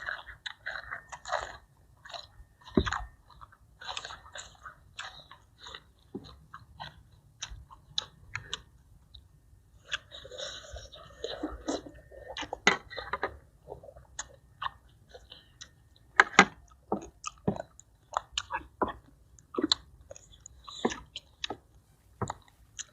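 Crunchy spicy Thai rice noodle salad with chicken feet being chewed up close, with repeated wet crunches and bites in an uneven rhythm over nearly half a minute and no talking.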